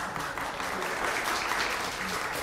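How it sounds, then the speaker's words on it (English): An audience at a technical conference claps in a steady burst of applause, fairly soft and even, with no talking over it. "could you give him big applause?"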